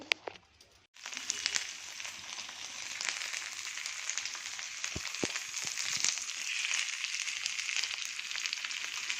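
Sliced bell peppers hitting hot oil in a pan, a steady loud hiss of frying that starts abruptly after a short quiet moment and keeps sizzling evenly, no talking over it.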